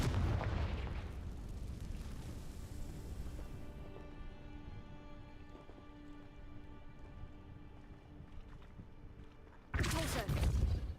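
A Confringo fire spell from Hogwarts Legacy on Switch 2 erupts in a loud, broad blast at the start, fading under a steady tonal game-music bed before another sharp burst bursts in near the end.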